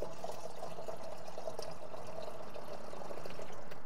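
Concrete cleaner pours into warm water in a watering can, a continuous liquid gurgle and splash that holds steady and fills the space for several seconds, without speech.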